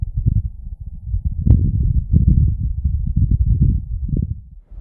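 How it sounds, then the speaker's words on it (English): Low, rumbling gusts of wind on the surface of Mars, buffeting steadily with a muffled, blustery roar, rising and falling in strength throughout. "This is the sound of wind on Mars."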